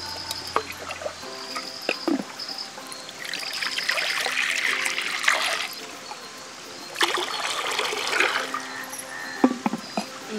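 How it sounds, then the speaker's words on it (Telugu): Water is poured into a pot for making petha, the Agra pumpkin sweet, in two gurgling splashing bursts separated by a pause, with light clinks before and between. "ఇప్పుడు ఒగ్గిల్లో నీళ్ళు వేసుకోవాలి"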